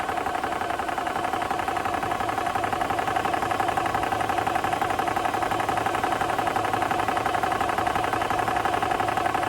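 An Air Venturi Nomad compressor fills an air tank out in the field, running as a close, steady, rapidly pulsing mechanical drone that holds constant throughout.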